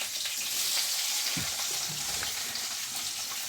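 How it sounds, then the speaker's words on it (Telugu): Chopped onions and tomatoes frying in hot oil for a chutney, a steady close sizzle that stays loud throughout, with a few soft stirring knocks partway through. "తరిగి పెట్టుకున్న ఎర్రగడ్డలు, టమాటాలు వేస్తున్నాయి."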